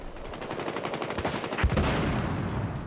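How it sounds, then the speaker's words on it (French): Gunfire rattles in a Battlefield Hardline multiplayer match, with rapid repeated shots from a sniper and other weapons and one heavier report midway, all at moderate volume. "Ça snipe là-bas."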